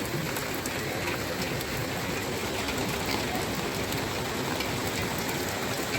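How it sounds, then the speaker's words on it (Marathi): Heavy rain pours down in a steady dense roar, a constant broadband hiss of drops hitting surfaces close by with no pauses. "तर बघू शकतो किती मोठा पाऊस पडायला लागला"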